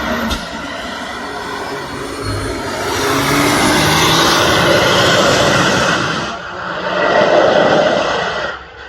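A Mercedes-AMG One hypercar runs on the Nürburgring, its engine a loud, steady roar that swells in the middle and again near the end as it passes close.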